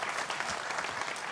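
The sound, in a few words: applause from studio audience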